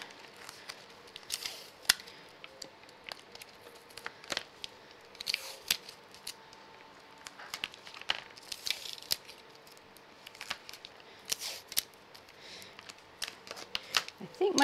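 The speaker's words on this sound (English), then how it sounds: "I'm going to bring this around and add a little bit of tape around it" Tape crackles and rustles as it is pulled and wrapped around a star shaker card, with scattered sharp crinkles and taps throughout and a voice talking quietly at times.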